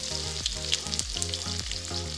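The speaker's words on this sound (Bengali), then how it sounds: "পেঁয়াজ দিয়ে দিচ্ছি" Onions dropped into hot oil on a stovetop, going in for a dish of drumsticks with dried fish, potato and eggplant: a steady close sizzle and crackle with faint stirring, no talk.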